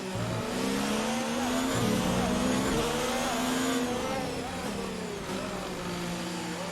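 A race car engine in the F1 2019 video game at the Hungaroring, suffering turbo power loss, drones loud and continuous with shifting pitch as it revs, along with faint tire noise.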